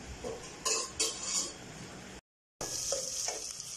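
Garlic and onion sautéing in butter in a pan give a soft continuous sizzle with occasional stirring scrapes, fairly faint and broken by a brief gap of silence.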